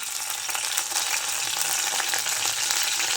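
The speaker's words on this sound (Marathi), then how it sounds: "आपण कढीपत्ता टाकूया" Curry leaves crackle and sizzle in hot oil for an amthi, a steady, close, dense frying hiss running throughout with no talk.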